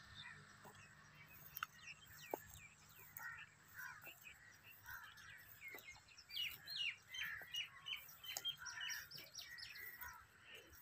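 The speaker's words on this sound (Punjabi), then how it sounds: "ਪਰਿੰਦੇ ਚਹਿਚਹਾ ਰਹੇ ਨੇ" Birds chirp and call in a green, quiet countryside area in the early morning in August, with a koel among them; steady scattered tweets at moderate distance over faint background hum, with no talk.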